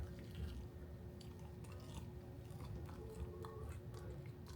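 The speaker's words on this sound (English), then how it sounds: "A little crunch." Someone close by chewing crispy corn fritters, soft wet crunches and mouth sounds repeating irregularly, faint and with no talk.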